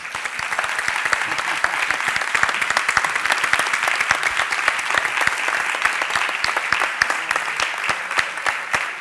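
Sustained audience applause at a round-table panel on publishing in Barcelona, dense, steady clapping from a full hall that keeps going with no voices over it.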